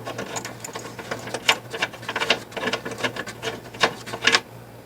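A 3/8-inch drive ratchet with a 6-inch extension clicks through quick, uneven bursts while turning 13 mm bolts on an Expedition, close and crisp with no talking.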